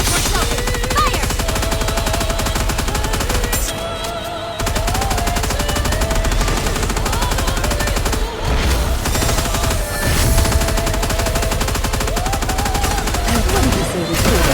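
Sustained machine-gun fire rattles loud and continuous in a NIKKE video game boss raid, with brief gaps between bursts, layered over music and occasional voices.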